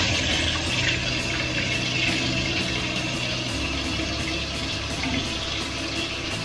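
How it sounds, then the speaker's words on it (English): Food for Filipino-style pancit canton is washed under a running tap, a steady close rush of splashing water that continues without a break and with no speech. "Wash it really good."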